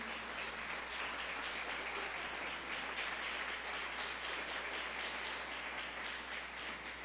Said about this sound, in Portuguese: Aplauda Jesus por isso.